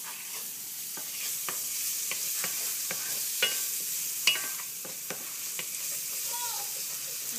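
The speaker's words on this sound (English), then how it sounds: "I'm going to saute some fresh sweet onions and some fresh garlic." Sweet onions and fresh garlic sauté in chorizo oil, giving a steady, fairly soft sizzle broken by the light scrape and click of a utensil stirring the pan.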